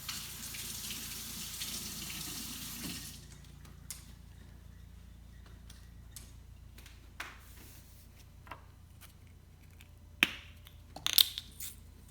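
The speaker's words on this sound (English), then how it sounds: "I gotta wash my hands real quick." A kitchen tap runs with a steady rushing hiss for about three seconds while hands are washed, then shuts off, leaving faint clicks and small knocks.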